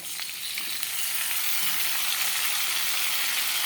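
A spice paste with tomato and green chillies frying in a pan, a constant close sizzle that swells slightly after the first moment, with faint stirring underneath.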